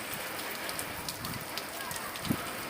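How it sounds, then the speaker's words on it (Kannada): Steady, heavy rain falling after a long dry spell, a dense even hiss at moderate level with scattered drops and a faint muffled voice or two in the background. "ಭಾಳ ದಿನದ ಮ್ಯಾಗ ಮಳೆ ಆಗ್ಯದ ನೋಡ್ರಿ."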